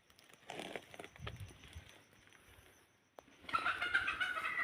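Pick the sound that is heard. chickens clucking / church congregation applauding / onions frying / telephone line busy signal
chickens clucking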